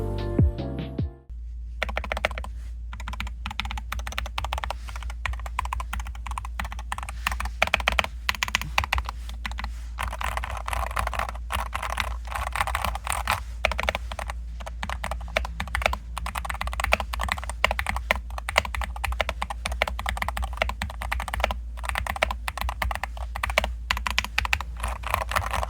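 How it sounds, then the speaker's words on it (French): Rapid, continuous typing on a clicky Wooting 60HE mechanical keyboard, close and steady, with dense overlapping keystrokes and a low hum underneath. "le bruit des touches est vraiment incroyable"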